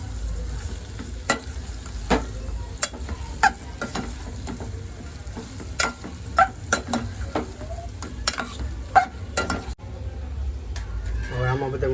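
Potatoes stirred in a pan for a fasting recipe, with repeated scraping and clinking strokes of a spoon against metal over a steady low sizzle, close and fairly loud, with a voice talking at times.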